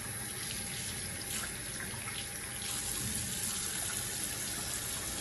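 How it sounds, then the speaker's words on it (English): Water runs steadily from a sink tap while hands are wetted for handwashing, a continuous soft hiss and splash heard fairly quietly and close, with no talking. "First, wet your hand with water."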